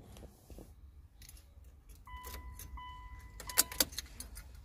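A Mitsubishi Lancer ignition key jingles as it is turned, with metallic clicks and a faint electronic chime, then brief rattling near the end, fairly quiet and close, with no talk.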